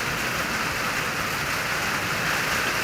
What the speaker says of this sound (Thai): ฝนตกย่อยอยู่